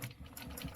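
A sewing machine stitches on a stencil craft project, a close, steady mechanical whirr with a fast repeating needle rhythm, heard briefly and alone.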